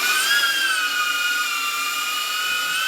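A camera drone's high, whining propeller buzz holds steady and loud throughout a fire station fly-through, its pitch drifting only slightly, with no voices present.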